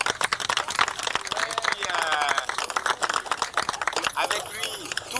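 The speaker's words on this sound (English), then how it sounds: "Moi, je voudrais qu'on puisse applaudir un petit peu, M. Augustine." An audience at a tribute event applauds, with dense clapping and some crowd noise running throughout, while someone speaks briefly over it.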